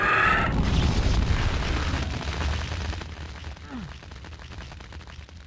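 Missiles explode in a 2D Doom game, a loud burst of booming blasts at the start that tails off into rumbling, crackling gunfire-like debris and a brief descending tone.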